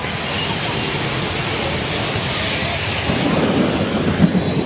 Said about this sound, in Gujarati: આ કડાકા જે તમે સાંભળી રહ્યા છો તે કડાકા વડોદરા શહેરમાં અત્યારે જોવા મળી રહ્યા છે